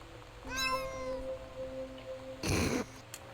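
A person imitates a cat with a drawn-out, wavering meow, followed by a short, harsher yowl-like burst a couple of seconds later.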